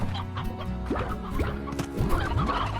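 Chickens cluck in the video game Slime Rancher, several short rising clucks and squawks close by, repeating irregularly over a steady background hum.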